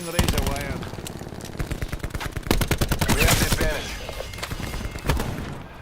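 Rapid bursts of automatic gunfire and single shots in the video game Call of Duty Black Ops 4, moderately loud and dense, with someone talking over the shooting.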